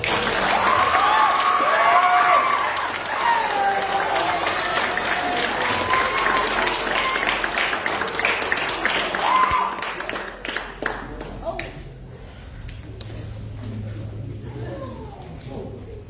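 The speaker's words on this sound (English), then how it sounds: "Let's give them a round of applause." Scout troop families applauding scouts at a Court of Honor ceremony, sustained clapping from a room full of people that thins and fades toward the end, with talk and shuffling noises mixed in.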